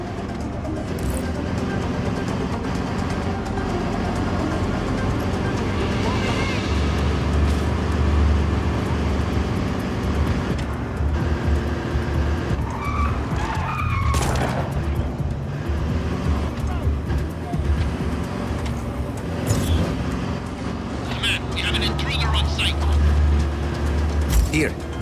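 A car driving in the video game Just Cause 4, a continuous engine and road rumble running throughout with game sound effects, while voices talk over it.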